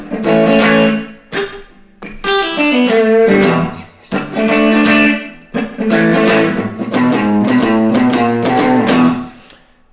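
A rock riff played on a distorted electric guitar: punchy, loud chord stabs and quick single-note runs in short bursts separated by brief gaps, with no voices.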